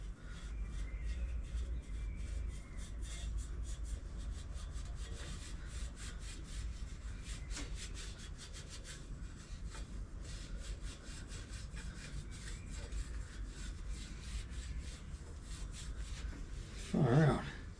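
A cloth rubs polish into rust on an old Dyno GT BMX bike, a steady close scrubbing and rasping that goes on in quick back-and-forth strokes, with a brief louder knock near the end.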